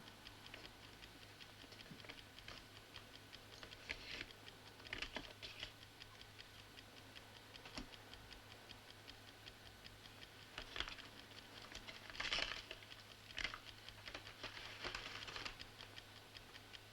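A ticking time bomb disguised as a clock gives off a faint, steady tick under low room hiss, with a few soft louder clicks scattered through.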